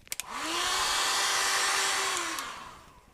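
A hair dryer dries paint and crackle modeling paste on a canvas, rising to a steady, close whining blow for about two seconds before winding down.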